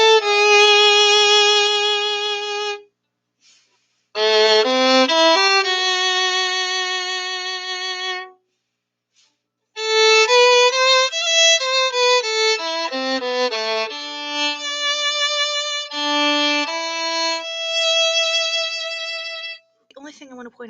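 The lower part of a freshman chamber piece is played on violin as a clear, sustained melodic line, close and fairly loud, with brief pauses between phrases.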